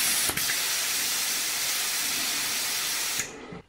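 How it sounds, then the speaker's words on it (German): Air hisses steadily out of a mountain bike tyre valve, a loud, close, continuous rush of air that cuts off abruptly after a few seconds. "lasse hier wieder ein bisschen Luft ab"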